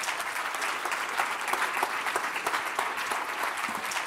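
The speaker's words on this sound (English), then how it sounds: "A round of applause for Ben Okri." Sustained applause from a large audience after a keynote address at the Commonwealth People's Forum 2018, dense steady clapping filling the room throughout.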